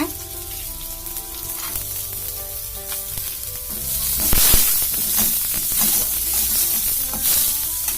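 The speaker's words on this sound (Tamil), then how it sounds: "நம்ம நெய்யில நல்லா வறுத்துக்கலாம் கேரட் பீன்ஸை." Carrots and beans frying in ghee sizzle steadily in a pan, a continuous close hiss with occasional stirring that swells louder partway through.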